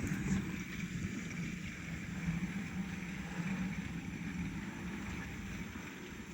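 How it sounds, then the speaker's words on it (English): A koi pond pump running beside a 6500-litre garden koi pond, giving a steady, fairly quiet whooshing hum with no change throughout. "Turn the pump back on."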